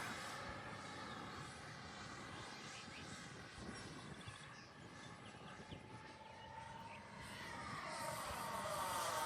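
An RC F-18 with twin 40mm electric ducted fans flies in high wind, giving a faint, continuous whooshing jet roar mixed with wind noise. The roar swells louder toward the end.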